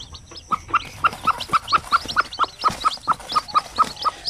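Sampin native chickens cluck in a steady, rhythmic run of short, close calls, repeating at a fairly even pace with no voices over them.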